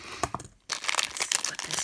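Packing tape peeled off a mail-order bead box package, a close crinkling, tearing rip in quick bursts with a short pause partway through.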